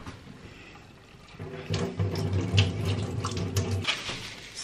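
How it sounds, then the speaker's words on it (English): Water runs from a tap over freshly harvested garden potatoes in a cabin kitchen, starting softly and swelling into a steady splashing flow with faint knocks of the potatoes being rubbed. "Gonna wash these guys."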